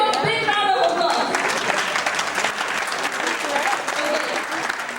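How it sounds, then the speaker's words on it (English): Audience applause for a 53-year-old man at a family gathering, a full burst of clapping with voices talking over it early, then settling into steady clapping. "Give him a big round of applause"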